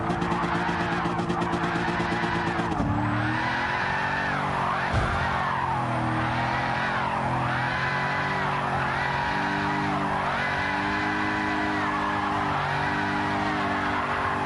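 Drifting car in a racing video game, tires squealing in long wavering sweeps over a steady, loud engine drone that runs unbroken throughout.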